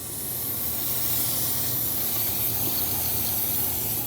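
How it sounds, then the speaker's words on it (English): Brake parts cleaner sprayed from an aerosol can onto the front brakes of a 2011-2018 Ram 2500 makes a steady, close, unbroken hiss lasting several seconds, with no talking. "Clean everything off with brake parts cleaner."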